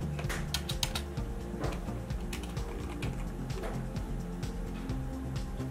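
Fingers typing a title on a computer keyboard, a close, brisk patter of key clicks with uneven rhythm and no talking.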